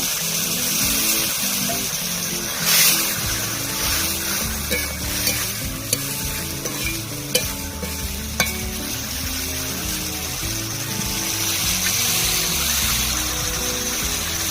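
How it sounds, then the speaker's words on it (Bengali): Water is poured into a pan of spiced potato curry (alupuri), setting off a loud, steady sizzle and frying hiss with stirring scrapes throughout. "দিয়ে দিচ্ছি একটু জল।"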